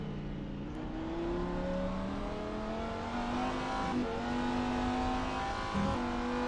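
Lamborghini race car engine in a sports-car racing video game at Daytona, revving hard through rising gear sweeps with quick shifts, a clear, steady, fairly close engine note with no talk over it.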